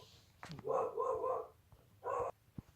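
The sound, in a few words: dog barking at the mail carrier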